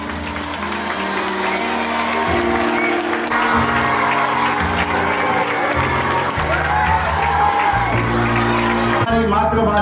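Sustained loud applause from a large audience at a school alumni gathering, continuous clapping mixed with some cheering and with talk and music over it.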